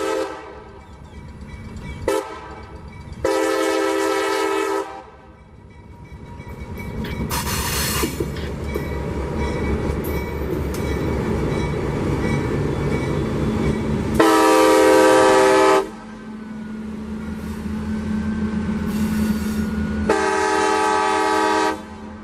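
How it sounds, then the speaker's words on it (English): A geometry train rumbles past close by, wheels grinding steadily across a diamond crossing, with several loud horn blasts sounding in long bursts over the passing cars. "After the geometry train went north across the diamond"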